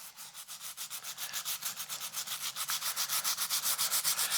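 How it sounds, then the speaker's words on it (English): A nylon-bristled brush scrubbing hard across an old golf club head, rapid rhythmic back-and-forth strokes that quicken and grow louder, close up with no talk. "I am rubbing in there pretty hard, because the bristles are nylon and the rubber should be able to take it"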